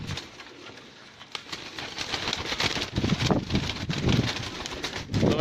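Pet pigeons of the BMW breed coo in a loft, soft low calls overlapping through a busy, noisy background with occasional rustling.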